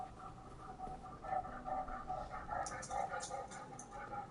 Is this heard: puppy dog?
yes